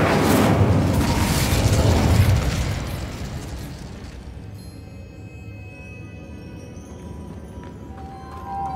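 An Incendio fire spell in the Hogwarts Legacy video game erupts as a loud, roaring whoosh for about two seconds, then fades into a quieter crackling tail with faint ambient tones.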